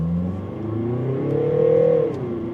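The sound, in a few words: Mercedes V-Class 2-liter diesel van accelerating in sport mode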